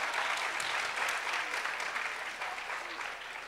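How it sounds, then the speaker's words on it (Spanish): An audience applauds a woman at a live Spanish-language show: sustained, even clapping from a sizable crowd, steady throughout and easing slightly toward the end, with no talk over it. "Un aplauso para la señora, por favor."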